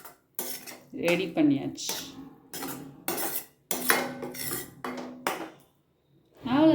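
Paneer bhurji with coriander gets stirred in a pan, a spoon scraping and clanking against metal in short irregular bursts, with a brief spoken remark near the end.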